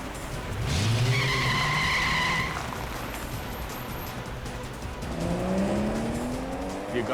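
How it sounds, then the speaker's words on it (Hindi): A car speeds away with its tires skidding, giving two drawn-out squeals over steady engine and road noise, the second squeal rising as the car pulls off. No one speaks. "ये गाड़ी इतनी तेज क्यों भगा रहा है अचानक?"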